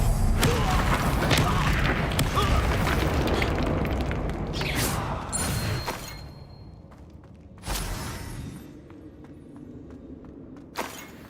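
A Confringo fire spell from the Hogwarts Legacy video game bursts into a loud, dense explosive roar that fades after several seconds, followed by two sharper, briefer blasts further on.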